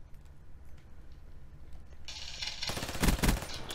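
Gunfire from a weapon in Black Ops 3, a fast burst of automatic shots starting about halfway through after quiet game ambience, growing louder toward the end.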